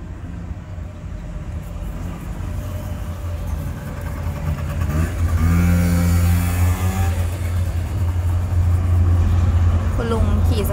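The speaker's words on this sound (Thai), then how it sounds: "เสียงสกูตเตอร์ลุงดังกว่าเสียงรถบรรทุกอีก" A motor scooter's engine drones closer, roars loudly as it passes nearby, then fades, while a person talks over it.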